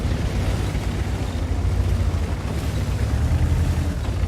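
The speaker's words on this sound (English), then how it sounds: "the Wizzy 111 just ammo-racked. He just blew up over there." A tank's ammo rack detonating in World of Tanks, a deep rumbling explosion with a sustained low boom lasting several seconds, fairly loud and heard alone without talk.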